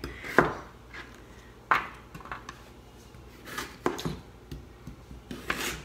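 A kitchen knife cuts through starchy vegetables on a cutting board, giving sharp, irregular chops several times, close by with quieter scraping between them.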